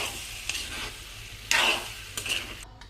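Tomato egg curry being stirred in a pan, with several distinct scraping strokes of the spoon against the pan over a faint steady simmer, close and fairly quiet, with no talking.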